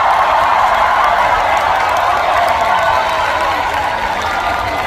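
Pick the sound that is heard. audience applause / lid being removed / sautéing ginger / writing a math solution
audience applause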